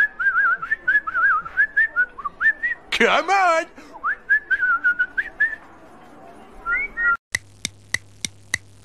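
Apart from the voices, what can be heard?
person whistling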